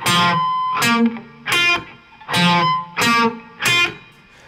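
Six short, choppy bursts of distorted electric guitar in a steady riff, each chord struck and cut off, played close without any voices.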